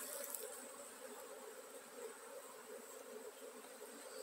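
Honeybees and drones fill a hive with a dense, steady buzz, an even hum heard up close and quietly, with no voices.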